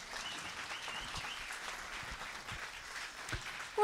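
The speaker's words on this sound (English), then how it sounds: "Let's give him another round of applause." Audience at a political gathering in Edmonton clapping for a speaker, a steady moderate wash of applause heard from a distance with no talk.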